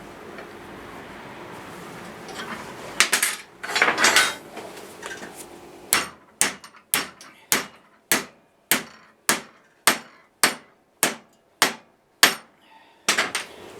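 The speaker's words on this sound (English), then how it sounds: "I know it's not the right hammer" A hammer strikes a horseshoe being shaped into a tea light candle holder, about fifteen sharp metallic blows in a steady rhythm, loud and close, after some scraping and handling.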